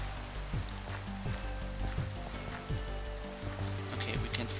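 Steady Minecraft rain hisses as an even wash, with soft patters mixed with low game music and occasional footstep-like thumps.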